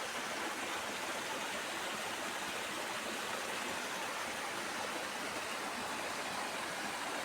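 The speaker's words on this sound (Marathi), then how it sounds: "हा खाली पर्या वाहतोय ना बघा" A stream in a Konkan village on a cold, misty morning rushes steadily, a continuous broadband wash of flowing water with no talk.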